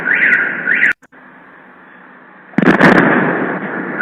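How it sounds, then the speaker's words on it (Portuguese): Recorded footage of an explosion in Rostov, in the port area: a sharp blast bursts in after a steady alarm-like wail, followed by loud rumbling and the wail again. "Hoje parece que tem uma nova explosão aqui em Rostov também"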